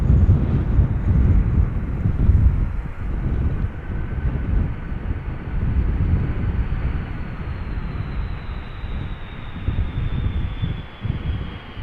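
An airliner landing at Amsterdam Schiphol in gusty crosswind with idle reverse thrust, a loud, broad engine roar that rumbles steadily throughout under buffeting wind noise, with a faint rising whine near the end.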